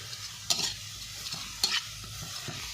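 Fish cooking in a pan over a provincial home stove, with a few soft scraping stirs and a gentle sizzle in a quiet kitchen, no voices.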